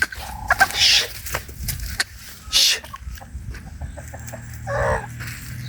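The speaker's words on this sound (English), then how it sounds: "See these hens here, they are eating my beans here." Hens cluck in short bursts while pecking at beans in a kitchen yard, with louder squawks around the first, third and fifth seconds over a steady low background rumble.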